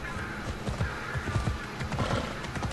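A horse in Assassin's Creed Odyssey gallops with rhythmic, thudding hoofbeats and lets out a whinny, close and fairly loud against a light ambient game backdrop.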